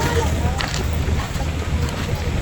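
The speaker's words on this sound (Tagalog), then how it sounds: "itong aming sinasakay bangka" A bangka outrigger boat carrying passengers near Polillo Island gives off a steady low engine drone with constant wind rushing across the microphone.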